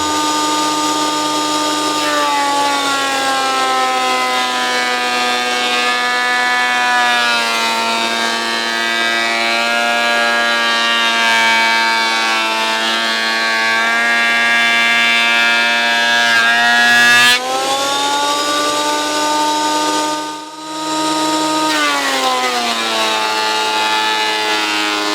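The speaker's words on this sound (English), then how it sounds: "one can feed the wood through underneath, and it goes on a couple of rollers and comes out lovely and smooth" An Axminster MB9020 bench top planer thicknesser runs with wood fed through its rollers, a loud, continuous high mechanical whine that holds steady for a long stretch with one brief dip near the end.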